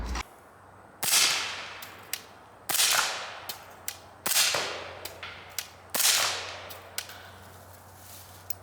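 A .300 Blackout rifle fires 220 grain Palmetto AAC subsonic ammunition at a range, four loud cracks roughly evenly spaced, each followed by fainter snaps and clicks from nearby shooting, with no voices.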